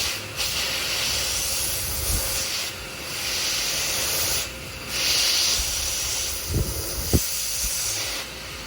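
A dog hair dryer blower, used for grooming Malamutes, runs at maximum power with a loud, steady rushing hiss that dips slightly a few times, with a couple of faint thumps near the end.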